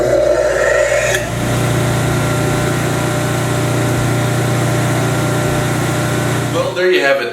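A Central Machinery 12-inch disc sander running: a loud, steady motor hum with a constant tonal whine that holds for several seconds after a switch-on surge and cuts off abruptly near the end.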